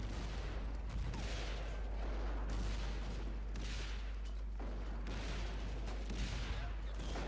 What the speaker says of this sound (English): what they're firing at us are the AT guns, but doesn't mean that they're not gonna do a huge chunk of freaking damage on us.